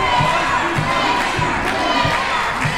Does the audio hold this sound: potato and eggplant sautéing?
no